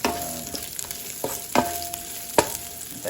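Garlic, onion and green chili sauté in a pan with a constant close sizzle, broken by several sharp clanks of a spatula on the metal.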